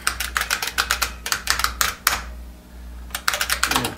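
Typing on an original IBM Model F keyboard produces crisp, loud, rapid clicks in quick bursts, a brief pause, then another run of keystrokes, with no talking.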